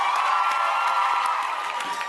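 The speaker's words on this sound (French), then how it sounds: "On les applaudit!" Studio audience of students from Collège Saint-Paul-de-Varenne and Régina Assumpta applauding singers, a dense continuous roar of clapping mixed with cheers and high whoops, loud and close throughout.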